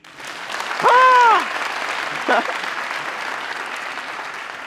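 Studio audience at a French stand-up comedy show breaks into a short, loud burst of applause and cheering, with a performer's voice heard over it and the crowd noise lingering under a low hum.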